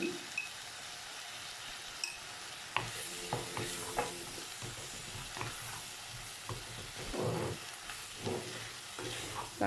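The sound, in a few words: green beans sautéing in a pan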